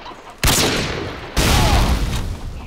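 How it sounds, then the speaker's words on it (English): In Modern Warfare 2, a claymore mine is shot and detonates in two loud, sudden blasts less than a second apart, each trailing off into a rough decaying rumble. "He shot the claymore."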